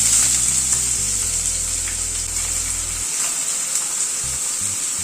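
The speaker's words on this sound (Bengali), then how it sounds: "গ্যাসের ফ্লেমটাকে কম করে পেঁয়াজটা ভেজে নেব" Chopped medium onion frying in oil over a low gas flame after a tempering of spices, producing a loud, steady, close sizzle with a constant hiss and faint stirring throughout, and no voices.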